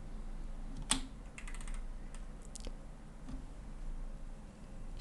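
Computer keyboard typing during furniture drawing in CAD software, a few sharp clicks including a louder keypress, close and quiet, with no talk.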